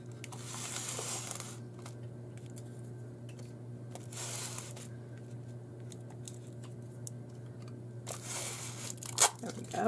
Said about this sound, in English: So here's our Xyron sticker maker. And let's see what we can do about turning these into stickers.